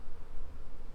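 Honey bees on a hive brood frame give off a dense, steady low hum, a continuous close buzz with slight swells over one second.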